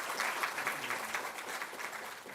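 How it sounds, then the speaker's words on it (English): Audience applause welcoming a distinguished professor, steady clapping from a group, moderately distant and fairly quiet, lasting the whole moment without a break. "Let's give a big applause to Professor Krishnaswami Srihari."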